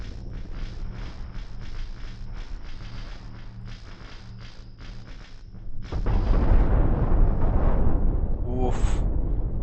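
Nukes strike a ship in a space combat video game, with a sharp burst at about six seconds turning into a loud, sustained rumbling roar over a backdrop of droning engine tones.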